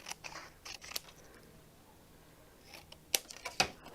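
Scissors trim layered Mirri board material in a few short, sharp snips, close and crisp over a quiet background, with no talking.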